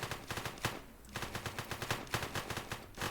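Police open fire during a video game bank robbery in rapid bursts of automatic gunfire. The sharp shots repeat rhythmically with a short pause partway through, and no one speaks.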